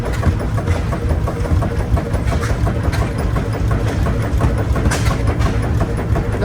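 Large Fairbanks Morse engine running at an engine show, a loud steady low rumble with a dense rhythmic mechanical chug throughout, close by and with no pauses.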